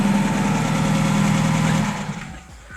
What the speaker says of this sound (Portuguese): Deixa eu desligar o carro.